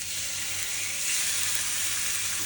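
Pieces of cheesesteak meat drop into a hot pan in a small kitchen, setting off a strong, continuous frying sizzle that swells slightly midway and holds steady, close and unaccompanied by voices.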